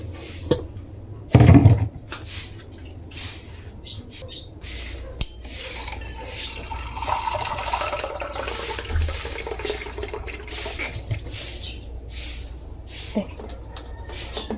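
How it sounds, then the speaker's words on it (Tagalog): Water poured into a cooking pot for boiling cassava, with splashing and running water in a home kitchen, a brief knock near the start and steady pouring throughout. "lagyan din po natin ng tubig na 1 baso lang"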